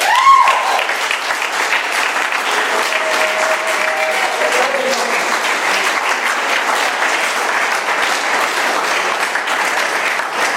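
Audience at an AA meeting in Doylestown, Pennsylvania, applauding after a speaker's talk, a loud, sustained wash of clapping from a full room with faint voices mixed in.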